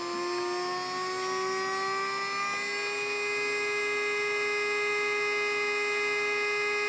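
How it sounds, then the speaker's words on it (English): A small model train motor on an ESU 53900 decoder tester whirs steadily, its tone rising slowly as it speeds up, with a faint electrical hum beneath. "I increased the speed to speed step 100. And watched the motor's speed gradually increase"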